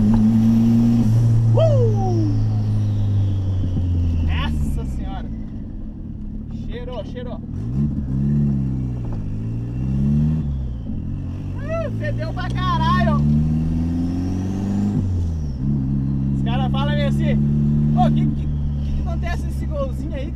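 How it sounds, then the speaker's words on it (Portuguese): A VW Gol Turbo engine revs hard and repeatedly, its pitch sweeping up and down, as high tire squeals cut in briefly several times; a voice speaks loosely beneath the loud, close engine. "Mais uma cantadinha no pneu."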